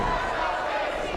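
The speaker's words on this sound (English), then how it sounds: "Crowd was getting behind Casey, yelling, "Let's go, Casey."" Women Of Wrestling crowd cheering on Casey Dakota with a 'Let's go, Casey' chant, heard as a loud, continuous blend of many yelling voices.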